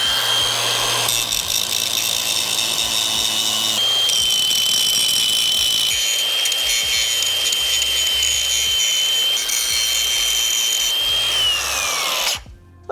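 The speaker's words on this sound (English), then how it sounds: "let's get this crack all cleaned up with the grinder" Angle grinder cleaning out a crack in a steel dump truck body, a loud continuous high-pitched whine with a steady abrasive rasp that holds for about twelve seconds before winding down.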